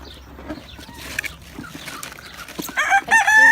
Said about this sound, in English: so Louie's having a crow.